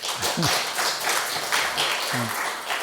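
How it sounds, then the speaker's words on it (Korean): A church congregation claps together, a steady wash of applause filling the room, with a few voices murmuring underneath. "박수 한번 쳐드립시다."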